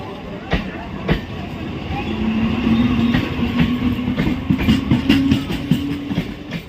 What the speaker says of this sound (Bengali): ট্রেন ঢুকছে ট্রেনটা এমনি ঢুকছে